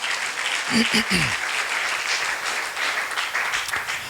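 A church congregation applauding after a sermon, a dense wash of clapping that runs steadily throughout, with a brief voice rising near the start.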